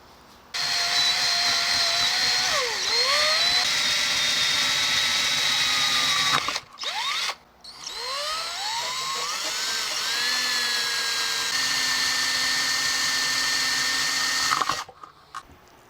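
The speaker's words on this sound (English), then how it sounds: "let's drill the 15 millimeter hole" A drill bores a 15 millimeter hole in a scratch-built figure-8 electric guitar body, its high whine bending in pitch as it bites, cutting out briefly mid-way, then resuming before stopping near the end.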